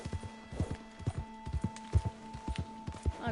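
Horse hooves clip-clop at a steady trotting rhythm in Red Dead Redemption 2, the beats close and distinct over a faint low game hum, with no talking.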